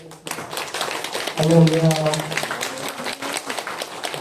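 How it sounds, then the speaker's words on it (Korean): A church congregation claps to welcome the pastor to the pulpit, a dense burst of applause mixed with voices; someone calls out a short praise word partway through. "우리 목사님 나오실 때 힘찬 박수로 우리 맞이하겠습니다."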